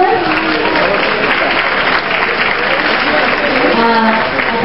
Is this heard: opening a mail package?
no